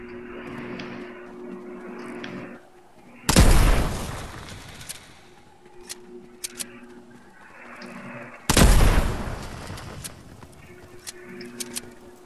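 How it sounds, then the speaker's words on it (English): Gunfire in a video game as a player shoots into bushes and trees, two loud, sustained bursts of booming shots separated by quieter background, with faint game sounds between. "I'm gonna shoot every bush. Shooting the trees out."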